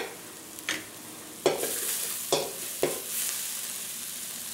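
An aderezo, a vegetable base for shrimp quinoto, sizzles in a pan with a steady hiss, broken by four sharp spoon-stirring scrapes spaced about a second apart.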